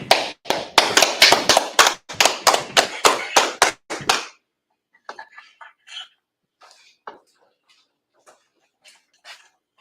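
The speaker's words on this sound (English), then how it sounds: "All right, clap it up." A brotherhood class group gives a run of sharp, fast rhythmic claps for about four seconds, loud and close, then falls quiet apart from scattered faint taps and small noises.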